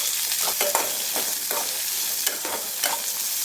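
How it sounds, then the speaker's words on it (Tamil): Big onions frying and being stirred in a pan for kadamba chutney, a steady, close hiss of sizzling oil with soft scraping strokes of the spoon running throughout. "அதோட பெரிய வெங்காயம் எல்லாமே 1 மினிட் போல் வறுத்து எடுத்துடணும்."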